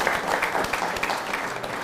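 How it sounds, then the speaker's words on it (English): Audience applause at a live AI podcast panel discussion, a brief burst of steady clapping from a crowd filling the room evenly throughout. "I want to give a clap to the audience"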